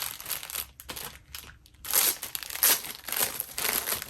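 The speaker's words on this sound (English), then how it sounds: "You're supposed to be able to peel off the back. See? You could peel this off and you can stick this on stuff" Black alphabet stickers have their backing peeled away in a series of crisp, crinkly crackles and soft tearing rustles. The sound comes close up and in irregular bursts, with short pauses between them.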